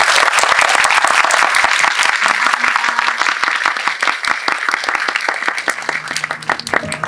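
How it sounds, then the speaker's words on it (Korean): Loud, dense audience applause filling a cinema hall at a Korean film screening and guest talk event, steady and sustained for about seven seconds, close and continuous with no speech over it. "오늘 소개하신 두 분에게 큰 박수 부탁드립니다."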